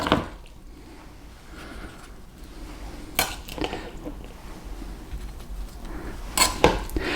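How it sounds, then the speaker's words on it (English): Pico de gallo is spooned into a bowl with quiet, wet scraping, and a few sharp clinks of the spoon on the dish stand out now and then. "then we'll just spoon in some of our pico de gallo"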